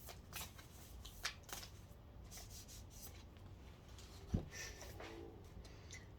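Tarot cards are shuffled and rubbed softly in a quiet room, with faint papery swishes and a couple of light taps, all recorded at low volume with no speech.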